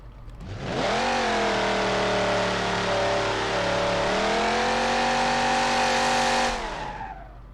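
A muscle car engine in BeamNG.drive roars into a sustained high rev with squealing tires during a burnout for several seconds, then winds down.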